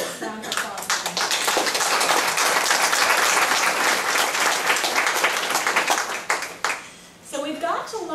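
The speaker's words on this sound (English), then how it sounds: "I'd like to give them all a round of applause" An audience gives the presenters at a rural talk on working with patients a round of applause. The dense, steady clapping lasts about six seconds, then fades, and a voice speaks at the end.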